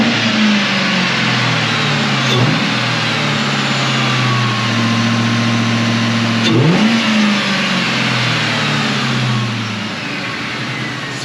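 A Ford Mustang GT 4.6 with a Cobra cat-back exhaust idles with a deep, steady rumble, punctuated by two sharp throttle blips, one early and one near the middle, before settling back and fading slightly, close by and without talk.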